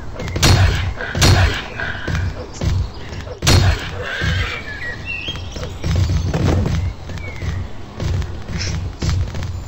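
A horse whinnies in a video game amid heavy thuds and booming impacts, a chaotic scene with loud hits spaced irregularly.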